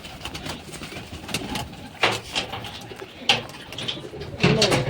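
Domestic pigeons on rooftop perches coo softly in a series of separate calls, with a few louder bursts and light wing noise around them.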